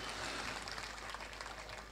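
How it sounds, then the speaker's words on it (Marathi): Audience applause breaks out for dance performers on stage, a dense, even wash of clapping that runs steadily throughout, faint and somewhat distant. "या कलावंतांसाठी जोरदार टाळ्या तुम्ही सगळ्यांनी वाजवा."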